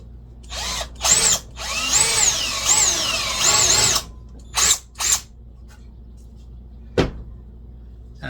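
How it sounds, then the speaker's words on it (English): Power drill boring pilot holes into pallet board ends, heard as several short high-pitched whining bursts with the motor spinning up and down, separated by brief pauses and light handling clunks. "pre-drilling wherever I have the end of each of these boards so they don't split"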